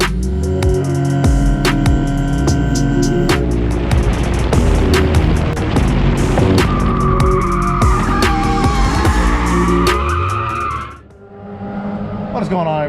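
Roush supercharged Mustang racing around Road Atlanta, a loud, sustained engine roar with tire squeal and skidding throughout, dipping briefly near the end before picking up again.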